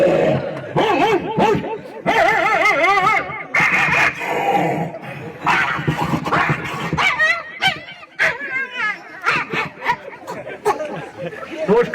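A performer's voice imitates three dogs fighting at once on a stage, with a rapid, chaotic run of yelps, growls, whimpers and barks that rise and fall for several seconds, loud and close.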